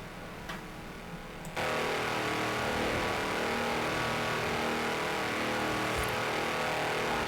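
Tractor engine running flat out on 54-inch mud tyres in Forza Horizon 4, a steady loud drone after a brief quieter start, continuous with no break.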